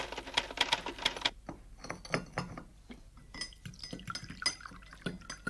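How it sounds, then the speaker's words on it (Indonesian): Typewriter-like clicking of someone typing in a home office, a fast cluster of sharp keystrokes followed by scattered irregular taps and clinks, close and fairly clear. "Helen's typing."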